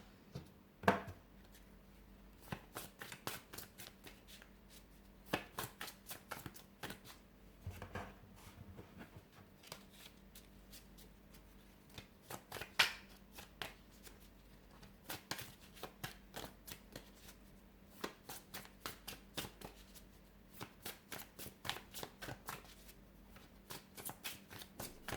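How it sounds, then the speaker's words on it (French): Tarot cards are shuffled by hand in quiet, repeated riffles and flicks, a steady patter of crisp card snaps running throughout at close range. "Vous n'avez pas fini de mettre de mélanger toutes les cartes."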